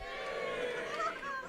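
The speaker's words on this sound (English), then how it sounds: "give me a cheer if you're also in your 30s" A comedy club audience in Torquay cheers and whoops in response to a comedian, a dense crowd of voices rising and sustained, fairly distant and moderately quiet, briefly swelling before cutting off.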